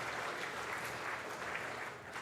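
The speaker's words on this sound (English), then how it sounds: "So please give Liz a round of applause" An audience at a Jazz for Justice benefit event at All Saints' Saugatuck applauds, a steady wash of clapping from many hands, fairly distant and soft.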